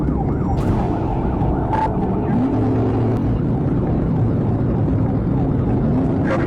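Police car siren wailing and yelping during a high-speed chase of a Mustang, loud and continuous over road and engine noise, its pitch sweeping up and down.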